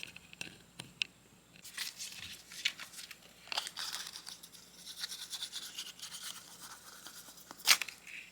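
Paper being laid over a work surface, irregular soft crinkling and rustling with a few sharper crackles, close and quiet.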